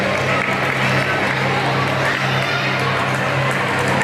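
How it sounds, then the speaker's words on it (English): A crowd at a lifesaving swimming competition applauds and cheers for a swimmer. The sound is a steady, loud wash of clapping and crowd noise with no breaks, and voices mix in throughout. "Let's give him a hand of applause to encourage him to finish the race"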